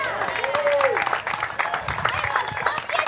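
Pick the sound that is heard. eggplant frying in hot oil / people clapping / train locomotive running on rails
people clapping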